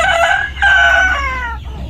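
A rooster crows loud and close, a drawn-out call in two rising segments, alongside clucking chickens among a flock of farm fowl with newly hatched chicks.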